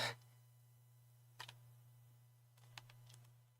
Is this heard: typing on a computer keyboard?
yes